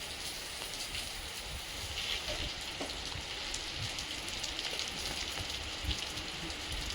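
Steady rain falls outdoors near a dam, a continuous even patter of drops on surfaces with scattered sharper ticks, soft and alone with no voices.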